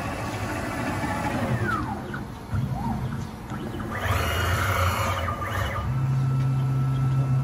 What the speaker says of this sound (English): another really cool feature of our machines is they do an automatic tool change